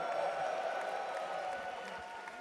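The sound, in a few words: crowd cheering at Dota 2 The International grand final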